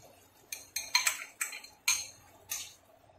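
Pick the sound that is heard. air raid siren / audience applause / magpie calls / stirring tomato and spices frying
stirring tomato and spices frying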